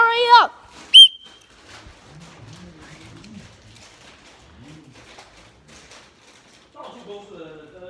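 A handheld whistle gives a short wavering shrill blast, then a single sharp piercing toot, with soft talking afterwards and another quieter warbling tone near the end.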